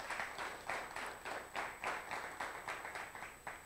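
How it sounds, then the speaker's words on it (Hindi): Audience clapping at an anniversary celebration, a steady run of rhythmic, evenly spaced claps roughly three per second, moderately loud and sustained throughout with a faint constant high tone behind. "एक बार उनके लिए हम ज़ोरदार तालियां देंगे"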